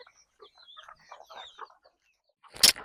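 Chickens on a farm cluck softly in a quick scattered string, followed by a sudden loud sharp squawk close by.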